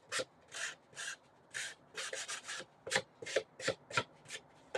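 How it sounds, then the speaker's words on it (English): Nail file rubbed against a frayed paper-craft edge, about a dozen quick, close rasping strokes in short irregular bursts with brief pauses between them. "just get a nail file or something, and you can just get rid of the"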